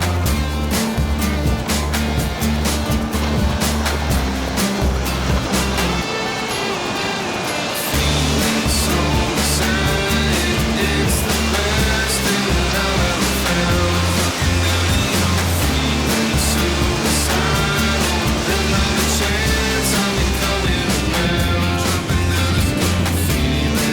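Princess V48 motor boat running at about 24-25 knots through waves, a loud steady engine roar with hull and water rush throughout, briefly dropping out near the middle before resuming.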